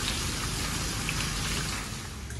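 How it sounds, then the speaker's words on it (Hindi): Heavy rain pouring steadily during a power cut in Karachi, a dense, even hiss of rainfall close by with no voices over it. "और बारिश इतनी हो रही है, ना कहीं जा सकते हैं, ना कहीं से आ सकते हैं"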